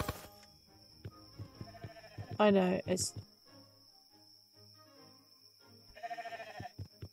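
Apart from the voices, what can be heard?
sheep bleating in video game Swords 'n' Magic and Stuff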